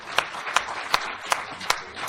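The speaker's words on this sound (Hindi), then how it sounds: "जोरदार तालियां बजाइए" Audience applause at a comedy show: a steady run of claps with regular louder peaks, fairly close, with no talking over it.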